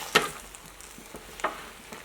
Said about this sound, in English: I'm just going to kind of stir it all up a little bit